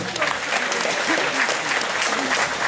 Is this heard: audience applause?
yes